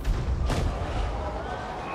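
Cannon artillery fire in the fantasy strategy game Total War: Warhammer 3, a single heavy boom near the start with a brief sharp blast, set in a dense, continuous battle din of rumbling low noise.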